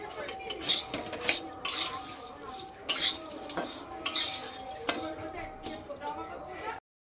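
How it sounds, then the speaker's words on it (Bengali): Vermicelli (semai) fries in a pan with repeated scraping and stirring clatter from a metal utensil, under a light sizzle, close by. "তো সিমাইটাকে আমি এখন ভেজে নেব, ভালো করে লাল লাল করে সিমাইটাকে ভাজতে হবে।"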